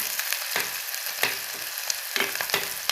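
Onions fry in a pan for besan paratha, a bright, close hiss of sizzling oil broken by repeated sharp stirring scrapes.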